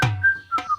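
A person whistles a quick two-note call, a short clear pitched tone followed by a second slightly lower one, close and alone in under a second.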